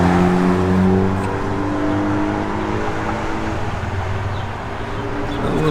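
A 1969 Chevrolet Camaro drives with a steady, loud engine note that holds fairly even throughout, a low rumble with harmonic tones and no voices over it.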